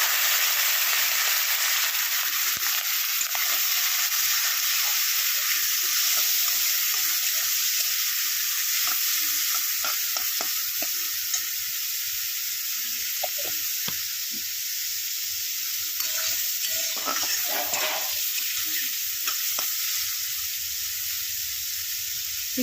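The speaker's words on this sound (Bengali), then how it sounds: "চিংড়ি মাছগুলো আস্তে আস্তে ভেজে নেব।" Prawns fry slowly in a pan with cumin, giving a continuous close sizzle with small crackles and occasional stirring taps throughout, and no voices.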